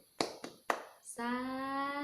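An audience performs a rhythmic clapping chant, three sharp hand claps in quick succession, followed by a sustained, harmonic-rich sung or chanted tone.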